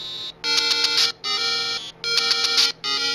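A Zelda video game tune plays as a phone ringtone: bright, beeping electronic melody in two loud repeated bursts separated by short silences, with no voices.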